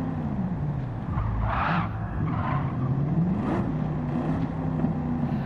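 A Bugatti Chiron in Gran Turismo 7 revs and rumbles through a race, with tire squeal and engine pitch rising and falling. Other cars pass by in a continuous, moderately loud mix.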